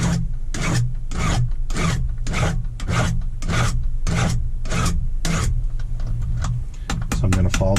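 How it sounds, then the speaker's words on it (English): A file rasps steadily across a badly worn metal lock cylinder plug in repeated back-and-forth strokes, about a dozen close, loud passes with brief gaps between them. "Normally I wouldn't be filing a plug"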